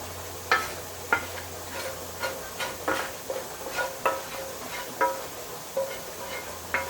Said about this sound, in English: Add the bacon and onion.